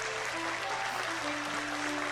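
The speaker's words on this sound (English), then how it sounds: "Again, the audience claps" An audience applauds after a ballet performance in a video game, steady continuous clapping from a crowd with a faint tonal music line underneath, moderately quiet and evenly sustained.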